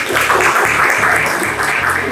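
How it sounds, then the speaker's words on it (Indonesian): Festival audience applauding at an automotive mechanics' event at a vintage car venue in Bali, a dense continuous clatter of many hands with a low droning hum underneath. "Tepuk tangan buat semuanya."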